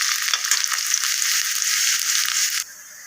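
Garlic frying in oil over a medium flame for curry leaf thokku, a steady, bright sizzle heard close up that cuts off sharply near the end.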